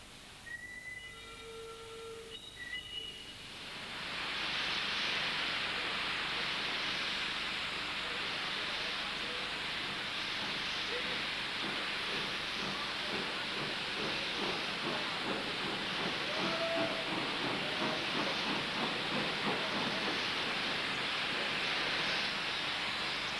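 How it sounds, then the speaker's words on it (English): A Talyllyn Railway steam locomotive, number 102, pulls a special train away from an old station: a few short whistle notes, then a loud, steady roar of steam and exhaust with rapid chuffing that persists close by. "number 102 was due to haul a special train, eventually departing from the fine old station building"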